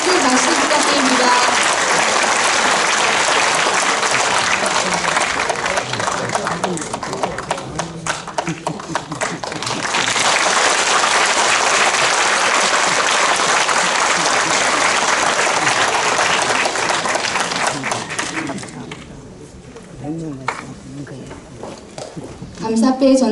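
Audience applause at a residents' briefing in Ahyeon-dong, Mapo-gu, Seoul, loud continuous clapping from a packed hall that thins and fades in the last few seconds.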